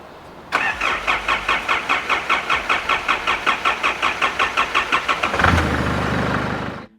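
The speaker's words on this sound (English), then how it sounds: "we still have a hard start issue where it cranks for too long" A 3.0L common rail diesel engine with a hard-start fault cranks for about five seconds in a steady, rapid rhythm of roughly twenty compression pulses, then catches and runs with a rougher, louder roar before cutting off.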